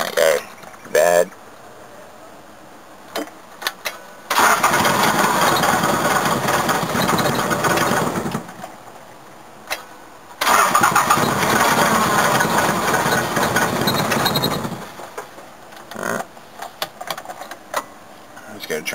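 An old Toyota BJ40 diesel engine with glow plugs cranks in two long, loud churning bursts separated by pauses, with brief knocks and clatter in between.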